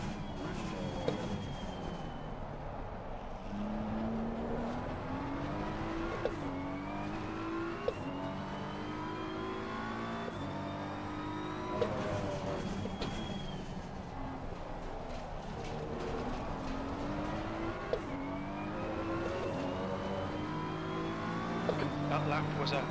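A race car in Assetto Corsa Competizione at Donington Park revs and shifts through repeated upshifts and downshifts, with tire noise as it brakes into corners. The engine is loud and near throughout, and a voice talks over it.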